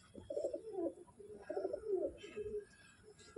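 Pigeons for sale, adult birds, cooing in soft, repeated rolling phrases at close range, fairly quiet and with no talk over them.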